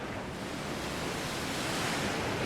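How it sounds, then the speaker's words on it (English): Ocean waves in the Second Life virtual world form a constant close wash of surf, loud and steady with no breaks or voices. "We're definitely hearing the sound effects of the ocean here pretty closely."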